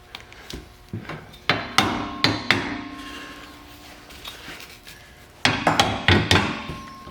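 Sharp hammer taps ring out in two quick bursts of several strikes each, separated by a quieter pause, close and loud, while fitting a Tremec 6-speed transmission into a 1963 Ford Thunderbird.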